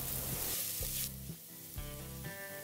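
Kurma masala cooks in a pan with a soft, steady sizzle and bubbling, faint and close, alongside a low tonal hum in the background.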